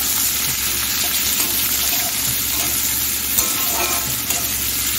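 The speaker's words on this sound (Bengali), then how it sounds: "পেঁয়াজটা আমি লাল করে ভেজে নেব, গ্যাসটাকে মিডিয়ামে রেখে।" Chopped onions fry in hot oil in a pan over medium gas for a prawn chochchori, giving a steady, dense sizzle with occasional stirring scrapes, close and unbroken.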